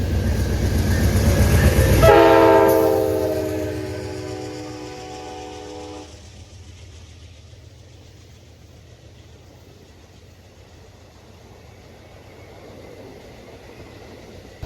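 An Amtrak passenger train led by locomotive 134 sounds a loud multi-tone horn blast while rumbling past close by, then the heavy rolling roar fades gradually into the distance.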